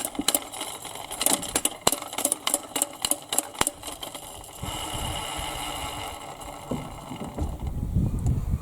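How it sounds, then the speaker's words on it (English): A paint roller sleeve mounted on its frame is spun by hand inside a bucket: a run of sharp clicks and taps comes first, then a steady whirring rush of spinning that lasts several seconds, close up and with no talking. "lower it down inside it and give it a little spin"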